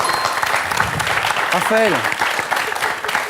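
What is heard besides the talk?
studio audience applause on a game show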